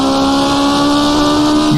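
A 1970s Formula 1 race car engine in rFactor 2, held flat out in fourth gear, a loud steady high-pitched howl throughout with no talking.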